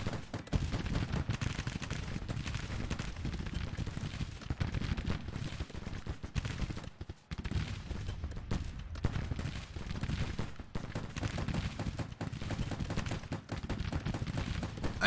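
Dense, continuous gunfire and artillery roar from a Civil War battle in the strategy game Grand Tactician: The Civil War, with overlapping shots and booms rumbling without letup, loud and close.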